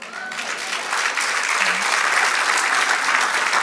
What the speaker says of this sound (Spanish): Porque Dios celoso, dale un aplauso.